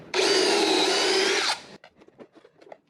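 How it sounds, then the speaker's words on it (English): A power drill bores a pocket hole in a wooden board, giving one loud, steady whine of about one and a half seconds. Faint clicks and handling noises follow after it stops. "I'm also going to be adding pocket holes on my top board going this direction."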